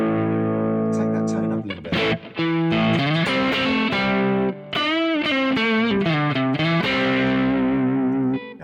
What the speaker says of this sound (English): Now this sounds much smoother.